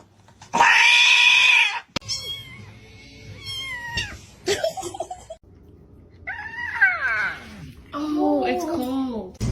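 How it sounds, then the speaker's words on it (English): A cat gives several loud, drawn-out meows with pauses between them, interspersed with other short vocal sounds, close to the listener. "Cats. I love cats."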